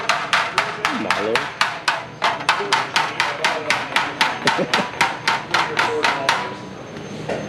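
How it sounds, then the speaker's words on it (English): Hammer strikes on the sheet metal of a hobby stock car body, a steady run of sharp metallic taps roughly three per second, close and loud, with faint talk in the background. "I call it smacking it with a hammer"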